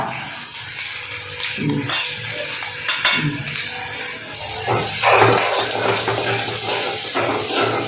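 Onion fries in oil with mustard seeds and cumin, giving a steady sizzle broken by irregular stirring scrapes and clatters, with a brief louder burst midway.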